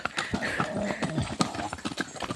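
Horse hooves clip-clop in a quick, uneven rhythm, fairly close, from a horse hauling wood in Tayabas, Quezon, with faint background noise and no talking.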